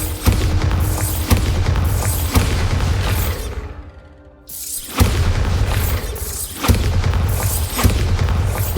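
Bombarda spell explosions in the video game Hogwarts Legacy boom out loudly and repeatedly, sharp blasts with crumbling debris, separated by a brief quiet gap near the middle.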